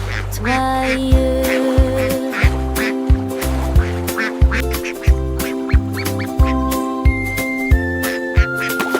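Cartoon duck quacks pop out in a steady rhythmic pattern over a bright children's song with synth melody and chimes, loud and upfront.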